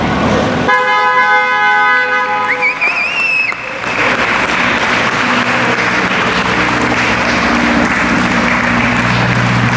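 Horns toot in a rhythmic run of honks as new 2020 Chevrolet Corvette C8 cars pull away from the National Corvette Museum, followed by a steady roar of engines, applause and crowd noise.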